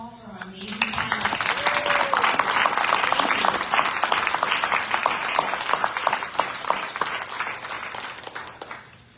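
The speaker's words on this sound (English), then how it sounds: "Please, a round of applause for our amazing panelists." A gala breakfast audience applauds panelists, the clapping swelling quickly into a dense, sustained wash and then tapering slightly, with a few voices underneath.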